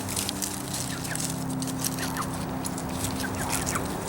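Chickens on a farm cluck and chatter faintly in a dense, continuous flock murmur, with scattered soft calls over steady background noise.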